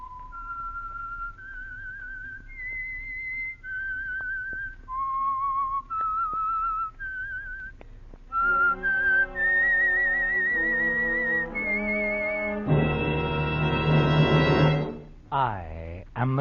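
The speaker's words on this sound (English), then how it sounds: "the signal to listen for is this whistle that identifies the Signal Oil program" A signature whistled tune for the Signal Oil radio program, a lone whistler carrying a slow, wavering melody, then joined by orchestral music that swells loudly before cutting off.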